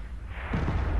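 A heavy tank cannon firing in World of Tanks, one loud booming blast that swells with low rumble partway through and sustains to the end, close and alone with no talk.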